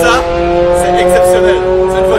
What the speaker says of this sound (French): C'est une voiture de course.